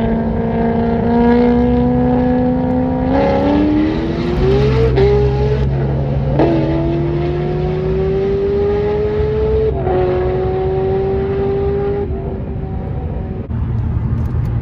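Two heavily modified cars, a 1,000 WHP twin turbo Dodge Viper and a 1,200 WHP C6 Corvette, race flat out with loud, sustained engine roars whose pitch climbs through gears, close and continuous, with no talk.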